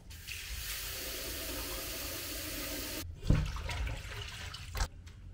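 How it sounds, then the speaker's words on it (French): Water pours steadily out of a bowl or container into a sink while seitan dough is kneaded in cold water, a continuous rushing stream that stops abruptly, followed by a few splashes and handling sounds. "je vais vider l'eau qui était l'eau du frigo"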